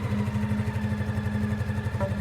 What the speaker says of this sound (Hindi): अर्जुन ने बिना समय गंवाए बाइक तेज रफ्तार से दौड़ा दी